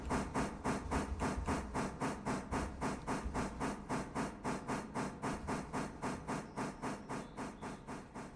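Steam locomotive exhaust chuffs in a train simulator video game come in an even, rapid rhythm, each puff a soft hissing burst, repeating steadily throughout at a moderate level with no talk.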